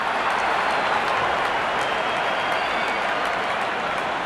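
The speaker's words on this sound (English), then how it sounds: "Crowd on their feet to cheer the moment." Cricket crowd cheering and applauding a six, a dense, steady wall of clapping and roaring voices at full volume throughout, with no pauses or individual voices standing out.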